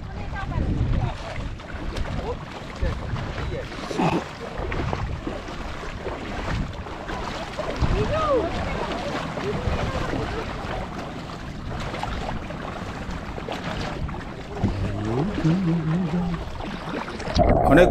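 Water sloshes and splashes around knee-deep legs as a group wades on foot across a river on a coastal trek, irregular surges under heavy wind buffeting on the microphone, with voices talking intermittently.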